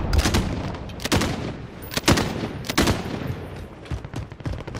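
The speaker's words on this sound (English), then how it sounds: "I'm just shooting randomly through the walls" Gunfire in a Call of Duty: Modern Warfare Warzone match, a player firing blindly through walls: a loud, irregular string of sharp single shots and short bursts, spaced out across the stretch with no talking.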